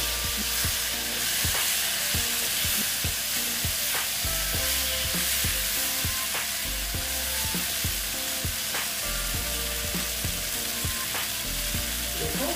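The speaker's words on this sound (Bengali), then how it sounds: "মাছ সহ আমি এটাকে একটু কষিয়ে নেব" Fried mourola fish tossed and stir-fried in a spicy masala gives off a steady, close sizzle, broken by a quick series of sharp spatula scrapes and knocks against the pan.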